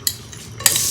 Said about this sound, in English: I'm going to saute the onions.